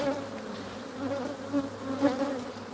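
Swarm of bees buzzing steadily around a hive being removed, a continuous droning hum with a few louder swells as insects pass close.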